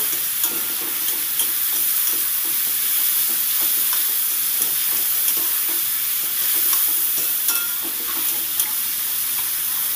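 Beetroot and carrot seasoned with salt and turmeric are stirred in a hot pan, producing a loud, constant hissing sizzle with light scraping ticks throughout and no voices.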